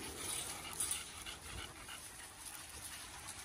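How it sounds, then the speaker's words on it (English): A group of dogs plays outside, their soft panting and occasional whimpers faint and fairly distant over steady outdoor ambience, with no clear voices. "Scarlet, you got all these dogs out here to play with"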